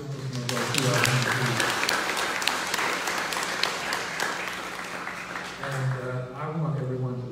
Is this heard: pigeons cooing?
no